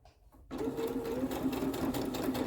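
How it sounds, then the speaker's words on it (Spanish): A sewing machine stitches a seam with the presser foot edge following a previous line: it starts after a brief quiet moment, then runs in a steady, close, fast whirring rattle to the end. "Voy a poner el borde interno del prensatela en esta costura que acabo de hacer"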